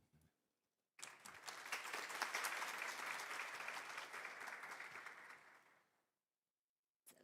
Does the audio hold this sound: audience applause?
yes